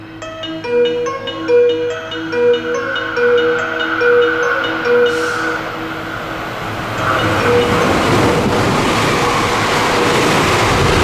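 A JR West Biwako Line special rapid train approaches and passes through a station, its melodic horn sounding in repeated notes before a swelling roar of wheels and wagons rushing close by.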